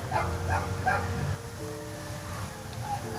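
A neighbour's dog barks a few times in quick succession from a short distance, then falls quiet, leaving a faint background hum.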